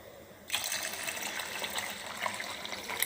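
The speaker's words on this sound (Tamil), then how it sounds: "ஒரு கிளாஸ் தண்ணி ஊற்றிக்கலாம்." Water pours steadily into a cooking pot after a brief quiet start, a continuous splashing gush that carries on without a break.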